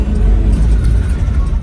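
An automatic Toyota Supra's engine revs loudly up close, a heavy low rumble filling the whole moment without a break, with voices faintly present over the top.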